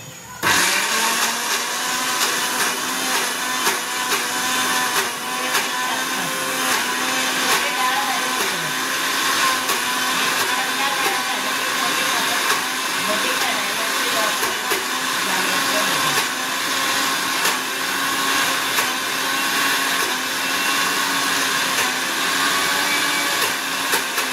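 Mixer grinder whirring steadily for a long stretch as it grinds soaked dal with chilli, garlic, turmeric and coriander into a batter, loud and continuous.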